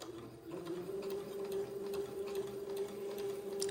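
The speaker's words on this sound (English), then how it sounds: "So after I sew this seam, I'm going to trim the fuzzies away." A sewing machine runs steadily through a seam, its motor holding an even hum with a quick regular ticking of the needle, close and fairly quiet, with no talking.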